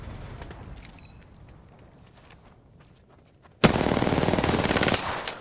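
Apex Legends gunfire breaks in suddenly as a loud, rapid automatic burst after a quiet stretch of soft in-game movement, sustained for over a second before tapering off.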